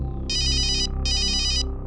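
A phone ringtone plays two bright electronic bursts in quick succession, loud and near, over a low background hum.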